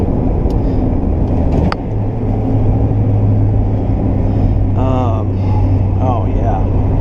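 A car driving on the road gives a steady, loud low rumble of engine and tire noise throughout, with a brief knock partway and faint higher sounds near the end.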